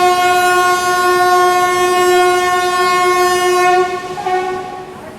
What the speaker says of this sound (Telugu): మనకు వేరే ట్రైన్ వచ్చింది చూడండి